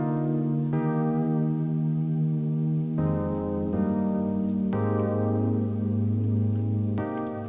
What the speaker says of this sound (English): that's a serum patch that's kind of, it goes in and out of pitch.